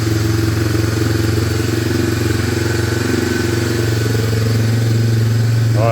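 A 1995 Honda Fourtrax 300 ATV revived after sitting 15 years, its engine idling steadily and loudly up close with an even, slightly fast putter and no voices.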